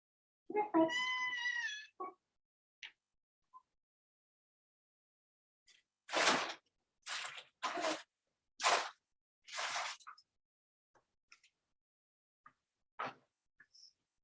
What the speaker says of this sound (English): So I play with my cats.